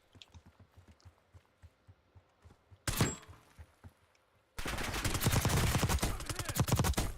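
In Call of Duty Warzone, scattered soft taps are followed by a short burst of gunfire from a Sentinel gun, then a sustained, loud, rapid stream of automatic fire that runs to the end.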